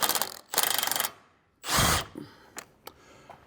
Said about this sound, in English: I'm going to snug it up with the impact first.